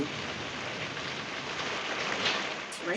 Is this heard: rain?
yes